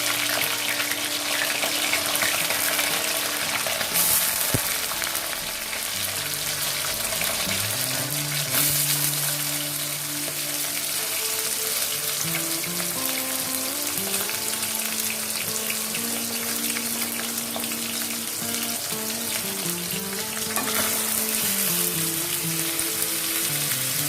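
Boiled soya chunks tipped into hot oil in a wok and frying, a continuous close sizzle and bubbling hiss that holds steady throughout, with no talking.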